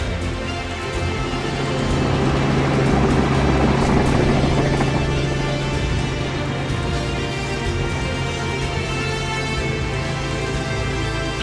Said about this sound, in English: I decided to hire a helicopter to be able to do some aerial images